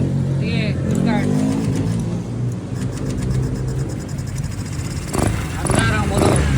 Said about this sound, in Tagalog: Andar ang motor.